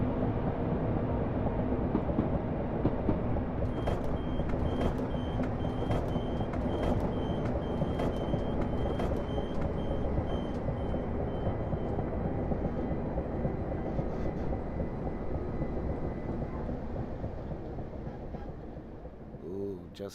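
A train in Train Simulator Classic with modded sounds rumbles steadily with a series of regular high beeps partway through, then the noise gradually fades; the sound is continuous and moderately loud.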